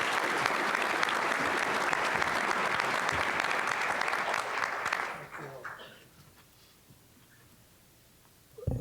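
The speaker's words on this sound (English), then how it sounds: "please give me a warm round of applause for Ron Roberts" An audience at a San Diego Economic Roundtable applauds a speaker, dense steady clapping for about five seconds that then fades away into near silence.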